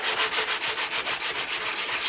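Hand sanding of metal motorcycle frame parts for a Kawasaki ZX9R restoration, close, brisk back-and-forth rasping strokes in a steady rhythm of about six per second.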